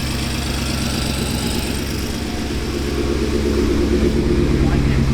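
A BMW M5 F10 engine with a replaced fuel injector idles steadily with a low, even rumble, close to the microphone.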